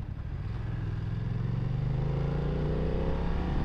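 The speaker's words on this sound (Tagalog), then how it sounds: "Oops, may truck." A truck passing on a gritty, slippery road at night, heard from a moving BMW F900R motorcycle: a low engine rumble that swells steadily and stays close, with no talk.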